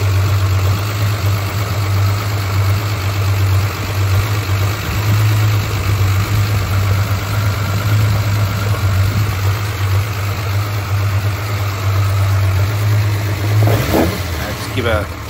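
A Hemi 245 engine idles on a dyno with a steady, loud low rumble that runs unbroken throughout, ending with a few brief clunks near the close.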